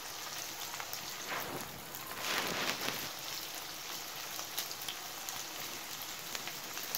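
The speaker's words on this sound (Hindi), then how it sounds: "हम 2 से 3 मिनट्स तक इस चिकन को अब फ्राई करेंगे।" Boiled chicken fries in a hot pan for a pilaf, giving a steady, moderately quiet hiss and crackle of oil with no voices, spattering evenly throughout and swelling slightly midway.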